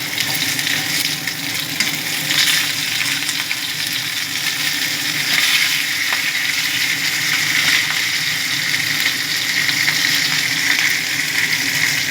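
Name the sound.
fish frying in oil in a pan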